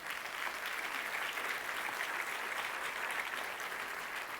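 A church congregation applauding in sustained, steady clapping that holds at even loudness throughout, with no talk over it.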